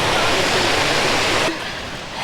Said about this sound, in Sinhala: දැන් අපි මැකන්සි ෆෝල්ස් බලුවා